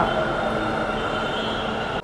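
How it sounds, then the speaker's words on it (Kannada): Metro train in Bangalore arriving at a station, a continuous loud rumble with steady mechanical hum and tonal whine, close by, filling the short moment without pause. "ಮೆಟ್ರೋ ಬಂತು"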